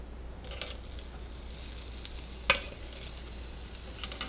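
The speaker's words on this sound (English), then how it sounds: "you're just going to throw them on the grill" Seasoned onion slices on a grill give a faint, steady sizzle, with one sharp click partway through and a few soft scrapes, no speech.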